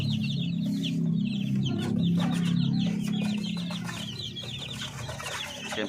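A crowd of chicks from a pure Paraoakan and upgraded native flock chirps and clucks continuously, many small voices overlapping close by, with no talk.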